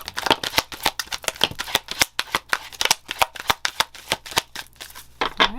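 Oracle cards being shuffled by hand, a rapid run of crisp riffling flicks and slaps close up, rhythmic bursts continuing throughout with no talk.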